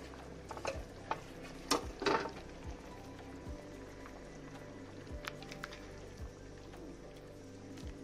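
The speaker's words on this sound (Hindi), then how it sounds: "मैं इसमें हरा धनिया मिक्स कर देती हूँ ऊपर से।" Green coriander being stirred into cooked chickpea curry (chhole), with soft scraping and wet squishing strokes from a spoon, a few louder clanks early on, then quieter stirring over a low background hum.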